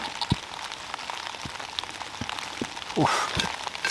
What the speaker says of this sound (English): It's hailing off something.